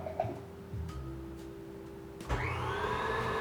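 An electric mixer starts up and whirs steadily through a purple sweet potato pie filling, its motor tone rising after a few quiet clicks and handling noises, then running loud and even.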